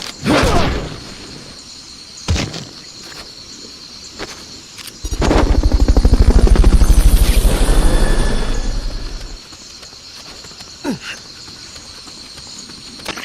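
A Fulton recovery helicopter in Metal Gear Solid Peace Walker: rhythmic rotor thumping swells up and fades away over a few seconds, with sharp clicks scattered before and after.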